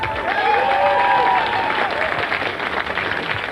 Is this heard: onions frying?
no